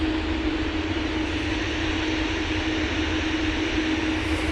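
An airliner taking off from Manchester Airport, bound for Malaga, roars with a loud, steady broadband engine rumble and hiss that holds evenly throughout with no voices.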